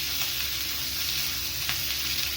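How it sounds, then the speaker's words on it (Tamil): Garlic and green chillies fry in a pan for poondu kaara kuzhambu, giving a steady, even sizzling hiss with a faint low hum underneath and no voices. "2 பச்சை மிளகா சேர்த்துக்கலாம். நல்லா வதக்கி விட்டுக்கலாம்."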